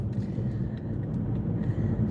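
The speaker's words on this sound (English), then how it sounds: "Look at all the Amazon trucks." Low, continuous road rumble of delivery vans and trucks rolling past on a busy street, loud and close with no gaps and no voices.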